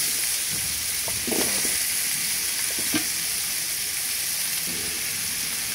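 Vegetables such as radish, potato and cauliflower sizzle steadily in a hot pan for khichuri, a constant frying hiss with a few soft stirring scrapes and clicks.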